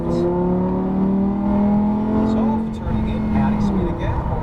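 A Lamborghini Huracan accelerates hard on a cone-marked track, its engine note rising loud and close through the run while an instructor talks over it.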